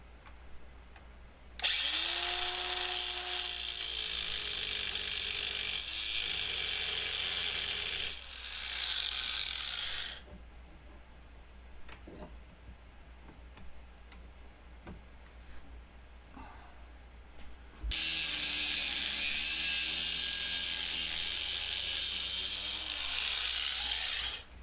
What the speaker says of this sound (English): sometimes you need a hacksaw just to finish off the square edges